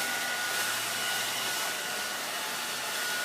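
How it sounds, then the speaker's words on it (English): A hot blow dryer on full heat blowing into a hot air balloon, a loud, steady whooshing roar with a faint high whine running evenly throughout, close and with no talking. "make sure it's not on cool on your hot blow dryer, and we're going to fill it up"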